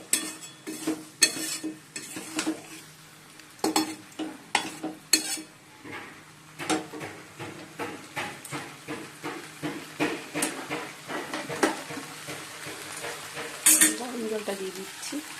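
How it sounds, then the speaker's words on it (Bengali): Potatoes and taro are stirred in a pan: repeated metal scrapes and knocks of a spoon in a fairly even rhythm over a soft sizzle, close up. "এর মধ্যে আলু আর কচু দিয়ে দিয়েছি, ভালো করে সব কিছু মিশিয়ে অল্প করে জল দিয়ে দেবো"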